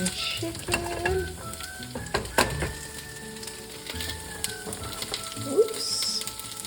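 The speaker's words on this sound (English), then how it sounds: "Some chicken." Salt-and-peppered chicken sizzles in a frying pan, a steady crackling hiss with a few clinks and a brief chirp-like squeak near the end.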